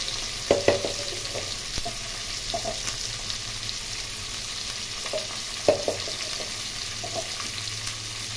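Hilsa fish frying in a pan with cumin powder, salt and turmeric: a steady, close sizzle with occasional light stirring clicks and scrapes, and no talk.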